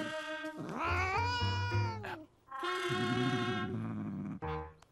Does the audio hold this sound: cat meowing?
yes